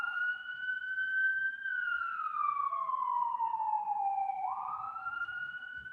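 A wailing ambulance siren rises and falls in long sweeping tones, clear and fairly close, with the pitch dropping and then jumping back up, heard alone without talk.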